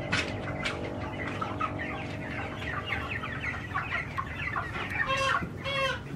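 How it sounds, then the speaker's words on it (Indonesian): Chickens clucking and squawking at a market chicken seller's basket, several birds close by with busy overlapping calls and a few louder squawks near the end, over a murmur of market background. "Lagi beli ayam dulu ibu-ibu Mama Jad"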